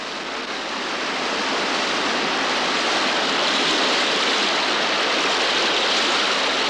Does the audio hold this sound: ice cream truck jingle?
no